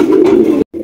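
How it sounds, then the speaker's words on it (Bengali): A pair of red short-face pigeons coos in a low, throaty, sustained call close by, breaking off briefly before the cooing resumes. "মাশাআল্লাহ চমৎকার এক জোড়া শর্ট ফেস কবুতর দেখতে পাচ্ছি"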